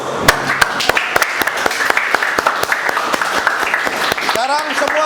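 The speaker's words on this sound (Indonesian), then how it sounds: "Oke, kita tepuk tangan dulu." A classroom group claps hands together in a brisk, regular rhythm during an ice-breaking activity, sharp close claps repeating steadily before a voice speaks near the end.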